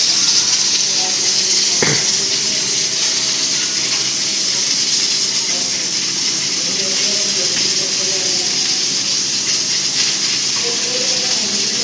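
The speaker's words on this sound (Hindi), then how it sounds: "और अब इसको लगा दिया तड़का।" Hot ghee sizzles steadily in a pot, a constant loud hiss that fills the whole stretch with only small crackles and shifts.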